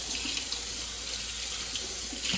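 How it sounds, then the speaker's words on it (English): Canning jar lids and bands washed one at a time under a running kitchen tap, a steady close splash of water into a sink with small clinks of metal, no voices. "I'm just going to wash them in hot soapy water."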